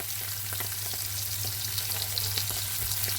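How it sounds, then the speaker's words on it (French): Toulouse sausages browning in a frying pan give a steady, close sizzle with continuous crackling fat and small pops, under a low constant hum, with no talking. "Donc là, on fait roussir un peu les saucisses de Toulouse."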